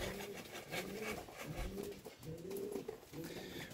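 Racing pigeons at their loft after a young-bird race, giving soft repeated cooing calls over faint rustling and wing movement, quiet and close with no talk.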